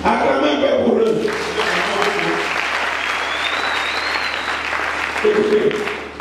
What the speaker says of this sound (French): Acclamez un peu pour eux.